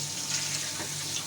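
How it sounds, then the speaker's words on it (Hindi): About two jugs of water pour into a large pot of fried chicken pulao with 4.5 kg of soaked rice, a steady close rushing splash with a light sizzle beneath. "अब हम इसमें शामिल करेंगे पानी"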